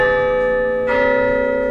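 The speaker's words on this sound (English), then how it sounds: "be sure to ring that bell" A bell sound effect rings out in a sustained, loud, resonant tone, then a second strike lands midway and layers a fresh bright attack over the lingering hum, with no talk.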